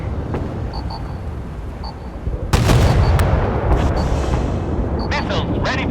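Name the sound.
naval gunfire in the warship game Force of Warships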